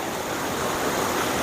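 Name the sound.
Erin Ijesha waterfall, sixth stage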